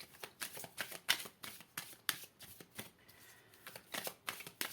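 Tarot cards are shuffled over and over in a steady, rapid riffling rhythm, close and fairly quiet, with no voices over them.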